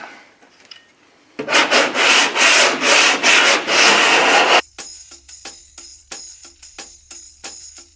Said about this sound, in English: Well, I'm gonna sand it off.